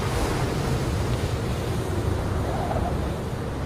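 Stormy sea surf and strong wind beside a fishing trawler, a continuous loud roar of crashing waves and gusting wind buffeting the microphone, with no voices.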